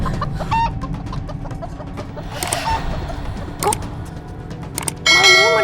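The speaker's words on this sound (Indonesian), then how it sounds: "Malam-malam ada ayam berkokok sih." A rooster crowing at night, with loud, close clucks and crowing bursts over a busy background hum, the last call rising sharply at the end.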